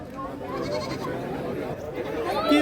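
Goats bleat at a weekly Sunday goat and sheep fair in Pathrala village, Bathinda district, their cries rising under steady nearby talk and crowd noise.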